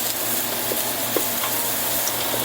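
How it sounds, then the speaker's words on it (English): Onion cooking in butter inside an Instant Pot gives a steady, close sizzle and fry hiss with faint stirring scrapes, no voices. "you don't want the onion to burn and you'd like it to be evenly coated with the butter"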